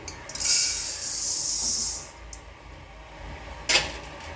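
Dry rice grains roasting to a golden colour in a pan for a homemade chilli powder for kuzhambu, giving a loud hissing sizzle for two seconds, then quieter, with a short sharp scrape near the end.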